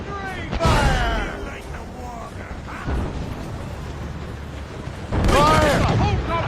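Ship cannon and mortar fire in Assassin's Creed Rogue naval combat, heavy booming blasts and rumbling volleys under shouted crew voices, with a loud burst of fire near the start and another near the end.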